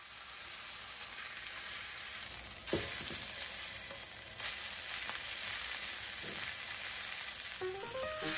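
A steak sears in a hot pan, giving a steady, close frying sizzle throughout, with a few brief clicks and shifts as the meat is turned onto a hotter part of the pan.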